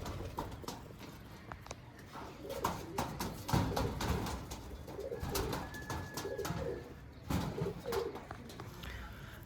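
A pair of Andhra Lalsira pigeons coos close by in a loft, soft throaty coos repeating in uneven bursts, with light shuffling and wing movement between calls.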